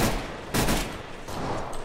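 Gunfire in Counter-Strike during a survival games mod match, with bursts of shots clustered near the start and again after about one second, fairly loud and dense against steady game background noise.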